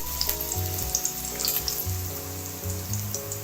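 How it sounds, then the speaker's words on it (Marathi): Curry leaves dropped into hot oil left over from frying fish, giving a steady close sizzle and crackle with a low background hum, no talking. "आता या मच्छी तळलेल्या तेलामध्ये आता मी कढीपत्ता टाकत आहे"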